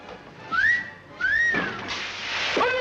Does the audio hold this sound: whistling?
yes